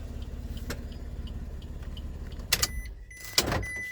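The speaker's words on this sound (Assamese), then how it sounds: "গাড়ীখন ষ্টাৰ্ট হৈ আছিলে" A Maruti Suzuki WagonR engine idles nearby with a steady low hum, broken near the end by a few sharp clicks and rattles.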